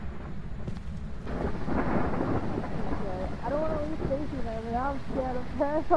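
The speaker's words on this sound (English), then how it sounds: "Lightning." A deep thunder rumble rolls in and swells during a thunderstorm in the video game Phasmophobia. It fades under a person talking.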